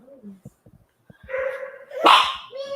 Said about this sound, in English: And there's the doggies barking out there.